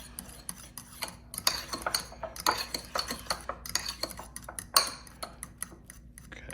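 Caviar chip dip being stirred in a bowl, giving a run of close, irregular utensil clinks and scrapes against the dish, with one louder knock near the end.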